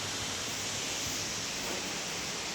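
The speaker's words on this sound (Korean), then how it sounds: "어마어마하네. 이 폭포" A large waterfall in the Blue Mountains roars as a steady, distant wash of broadband rushing water, soft and continuous throughout with no voices.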